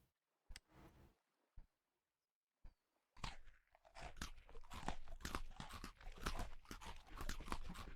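Chewing while eating in Vintage Story: a few scattered soft crunches, then a long run of steady, close, rhythmic crunching bites that sound rather like a grazing animal.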